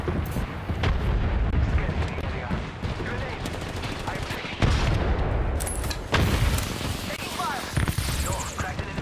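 Apex Legends firefight with a grenade blast amid dense, loud gunfire and booming impacts, continuous battle noise with a voice talking over it.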